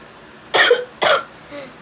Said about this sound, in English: If you're wondering why I'm coughing